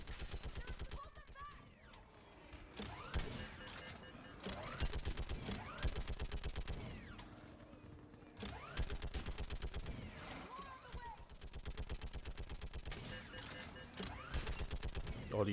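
Mounted gun in Mass Effect 3 firing in long rapid automatic bursts, loud and close, separated by brief pauses, with occasional voices in the mix.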